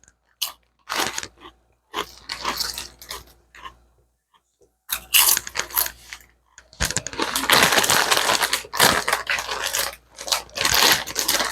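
Ruffled Paqui ghost pepper tortilla chips are bitten and chewed close to the mic, sharp crunches coming in bursts with brief pauses, then a longer run of continuous crunching.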